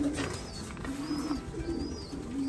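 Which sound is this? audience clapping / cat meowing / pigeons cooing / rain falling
pigeons cooing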